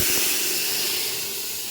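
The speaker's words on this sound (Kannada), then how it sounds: "ಹುಣಸಿಕಾಯಿ ಹುಳಿ ಒಳಗೆ ಖಾರ ಉಪ್ಪ ಎಲ್ಲ ಕುದಿಬೇಕು ರೀ ಕತ ಕತ ಅಂತ ಹೇಳಿ ಕುದಿಲತ್ತು" Tamarind sauce with chili and salt boiling in a pot, giving a loud steady hiss and sizzle with faint bubbling underneath.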